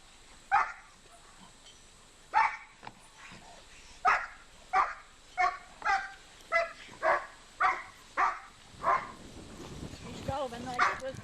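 A dog barks repeatedly in a steady series of sharp, loud barks, fairly close, with some whimpering near the end and people talking underneath.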